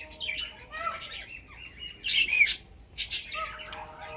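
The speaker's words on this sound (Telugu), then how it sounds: "చిలుకల్ని దగ్గర నుంచి రికార్డ్ చేయలేకపోతున్నాము." Parrots at Kotappakonda give a few harsh squawks and chirps from some distance, in short bursts over a quiet background.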